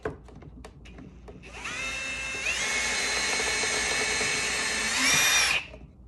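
A power drill bores 5/64-inch holes into a wooden drawer faceplate, the motor whining up to a steady, loud high-pitched spin for several seconds before winding down.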